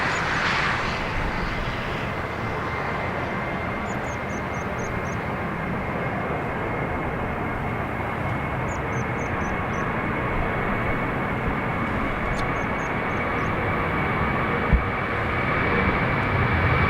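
A Ryanair jet takes off from runway 28 right at Dublin Airport, its engines a broad, sustained roar that holds steady and loud throughout, with faint bird chirps high above.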